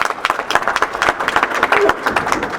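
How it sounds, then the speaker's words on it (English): Applause from an audience at a Sir Syed Day celebration in Washington, honoring a university vice chancellor: dense, steady clapping of many hands for under three seconds, with some crowd murmur mixed in. "Let's give him a big round of applause."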